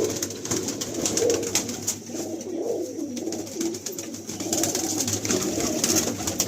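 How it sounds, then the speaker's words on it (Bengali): Carrier pigeons in a large pigeon loft in South Kolkata, cooing softly and repeatedly, with low murmuring calls overlapping across the whole stretch. "দেখুন এই একটা দেখুন মালবাহী পায়রা"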